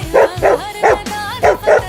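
A dog barks in five sharp, loud bow-wow bursts at an uneven rhythm, close by, with a faint whimpering tone between the barks and no talk over it.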